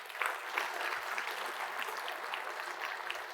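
Conference audience applauding the event organizers, a steady wash of many hands clapping at moderate distance, sustained and even throughout with no voices over it.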